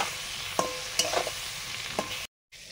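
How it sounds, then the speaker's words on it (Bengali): Eggplant pieces lightly frying in oil, a steady broadband sizzle with a few sharp utensil clicks, cut by a brief silent gap near the end. "হালকা করে বেগুনগুলো ভাজবো।"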